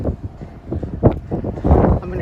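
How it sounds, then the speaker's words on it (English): Strong wind buffets the microphone on a hilltop near Pamplona lined with windmills, a loud continuous low rumble of gusts with no talking. "It's just super windy up here."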